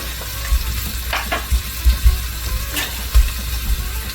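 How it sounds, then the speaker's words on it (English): Vegan spinach stir-fry sizzling in a hot pan, a constant close crackling sizzle broken by several soft thumps and scrapes from stirring, with no one talking. "we're going to bring in the mushrooms and let it stir fry"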